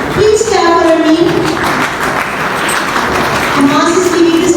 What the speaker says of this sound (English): Please clap for Armin.